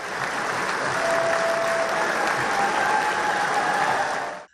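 Standing ovation from members of the US Congress for Netanyahu: dense, steady applause from a large crowd, loud and unbroken for the whole stretch, with no voices on top.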